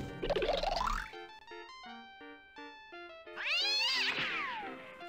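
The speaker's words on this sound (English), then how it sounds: "Oh, there's a cat up there" A cat meows twice in the Windows 3.1 game Madeline and the Magic Puppet Show, a rising cry and then a longer wavering yowl, with a short plinking musical jingle between them.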